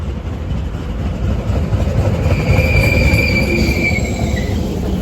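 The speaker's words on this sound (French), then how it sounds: "Dans un tramway." A tram rolls through Rome with a constant rumble of wheels on rails, joined midway by drawn-out metallic wheel squeals that rise and fade, heard from inside the car.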